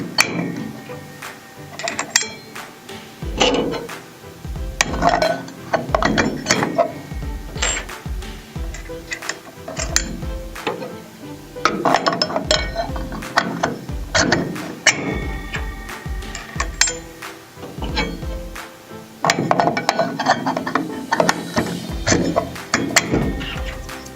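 Blades and 3.1mm spacers fitted one after another onto the arbor of an AGP CG150 2500W 150mm wall chaser, a steady run of sharp metallic clicks, taps and clinks close by, with no talking.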